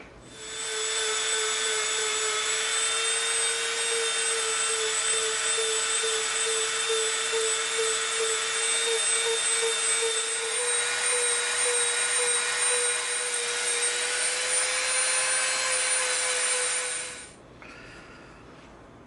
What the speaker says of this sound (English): Now we can start Dremeling.